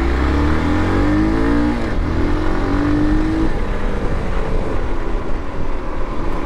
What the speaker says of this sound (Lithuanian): Štokit kažkodėl biški netolygiai dirba variklis